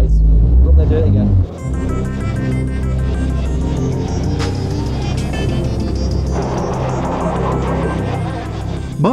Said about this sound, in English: Mastering handbrake and pendulum turns takes time and practice